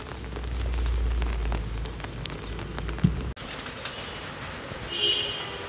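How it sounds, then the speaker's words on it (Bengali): Rain driven by wind on a rooftop, a steady patter and hiss of drops on surfaces that continues throughout, with a sharp knock partway through and a shift in tone after it, no speech. "বাতাসও আছে বৃষ্টির সাথে"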